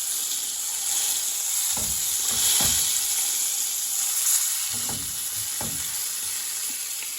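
Fish frying in a pan, a steady loud sizzle and hiss of hot oil with occasional soft scrapes and knocks of stirring or turning, close and without talk.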